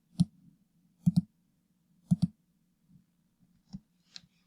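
Sharp mouse clicks in Photoshop come in quick pairs, three clear double-clicks spaced about a second apart, followed by a few fainter single clicks over a quiet background hum.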